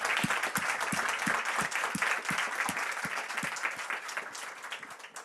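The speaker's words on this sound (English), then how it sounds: "we just give a warm round of applause to our amazing speakers that joined us until now" Steady applause from a conference audience at a live-streamed IUCN event at COP28 continues for several seconds, with a few louder individual claps standing out in a fairly even rhythm.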